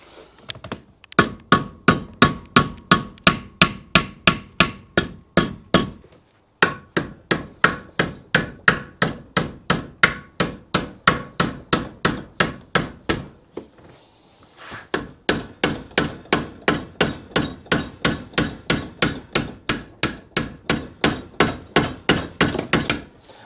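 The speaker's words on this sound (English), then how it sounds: "keep moving the hammer round the radius" Steady, rapid metallic hammer blows ring out close by as sheet metal is shaped around a radius for a motorcycle bobber, dozens in even rhythm, broken by two short pauses before the tapping resumes.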